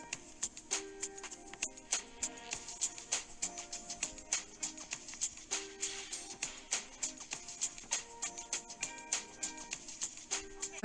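A track, an electronic song with a steady pulsing beat under bright melodic synth phrases, playing alone with no talking.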